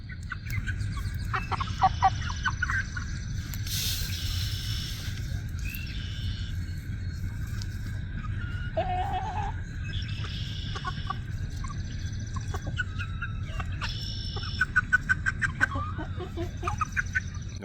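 A barnyard mix of silver-laced Wyandottes, barred rocks and buff Orpingtons clucking and squawking in repeated calls at moderate distance over a low background hum.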